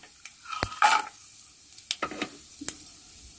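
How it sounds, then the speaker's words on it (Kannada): Mustard seeds spluttering in hot oil in a pan, a quick burst of crackling pops followed by scattered sharp snaps and light sizzle, close and fairly quiet, with no voices. "ಸಾಸಿವೆ ಚಟಪಟ ಅಂತ ಇದೆ"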